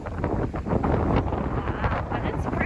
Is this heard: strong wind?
yes